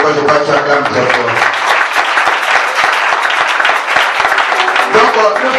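A church congregation bursts into sustained, loud applause and cheering, dense clapping filling the whole stretch with voices mixed in.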